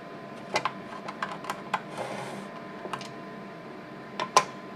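A screwdriver works T10 Torx screws out of a Motorola M120 radio board to free it from the chassis, giving small, sparse metallic clicks and ticks at close range, with a brief scraping rasp in between.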